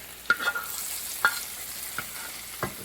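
Hot ghee with dried chilli and cashews poured over hilsa fish, giving a soft, steady sizzle with a few sharp spoon or pan clinks spaced apart, close and without talk.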